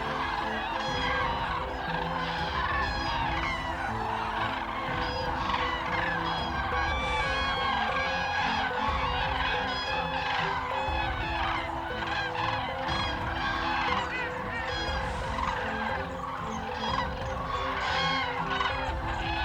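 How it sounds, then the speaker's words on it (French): A large wintering flock of common cranes on the Coussot marsh keeps up a dense, continuous chorus of trumpeting, honking calls, many birds overlapping at a distance, steady throughout. "La grue est un oiseau puissant"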